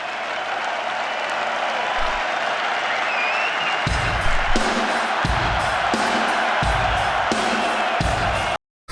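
A large crowd at a live metal concert in Brazil roars and cheers continuously and loudly, with heavy rhythmic stage sounds cutting in partway through.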